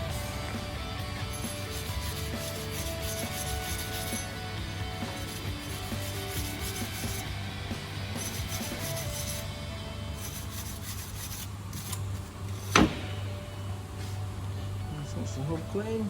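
Abrasive rubbing and scraping while a brake hub on a Citroen C1 / Peugeot 107 is cleaned up, a continuous close rasping with one sharp knock, a voice talking briefly over it.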